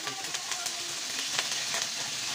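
Chicken pieces fry in a pan for chicken asado, giving a dense, continuous sizzle with scattered crackles and pops at close range, steady in level and without talk.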